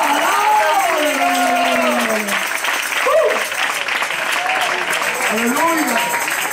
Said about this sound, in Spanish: Dale un fuerte aplauso en esta noche